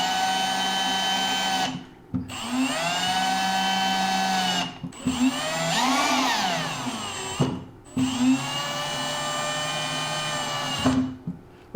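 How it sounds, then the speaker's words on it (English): A power drill whines in three long runs separated by brief pauses, its motor pitch shifting as it snugs an isolator cap down against the spindle body; close and fairly loud, no talking. "We can go ahead and grab our drill and snug up our cap."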